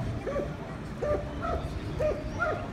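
A police training dog barks in a steady series of about five sharp barks, evenly spaced and moderately close over background noise.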